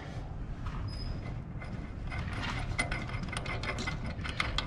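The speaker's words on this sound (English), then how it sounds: "Got a wrench." Metallic clicks and ratcheting of a wrench working on the steering clutch of an Allis Chalmers HD6 crawler tractor, a steady busy mechanical clatter close by with no talking.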